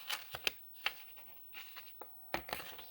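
Tarot cards handled and shuffled at close range, a series of quick crisp flicks and slides in irregular bursts with short pauses, quiet and alone without talk.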